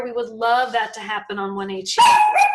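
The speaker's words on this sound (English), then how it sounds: "Sorry, that's my dog." A dog yips and whimpers in short, high bursts toward the end, following someone speaking in an online meeting.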